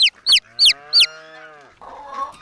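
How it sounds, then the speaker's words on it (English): A chick peeps four times in quick high chirps, followed by a sustained tonal call and a brief rougher sound at the end, close and clear. "It's a chick."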